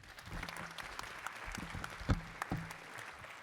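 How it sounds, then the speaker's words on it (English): Faint applause from a seated academic conference audience after a paper talk, scattered claps with a few sharper individual hits, fairly distant and quiet. "Please give her another round of applause"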